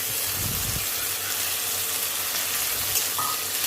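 Cashews and raisins sizzle in a hot pan while a utensil stirs and scrapes briefly, steady frying underneath.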